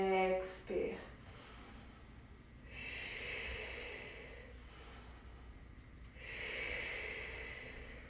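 Slow, audible breaths taken in and pushed out during a prenatal yoga warrior two pose come in long, airy waves, close and soft, with a brief voice at the start.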